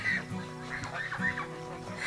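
Guinea fowl cluck and chatter on a farm in a busy flock, their overlapping calls close and moderately loud against a steady background.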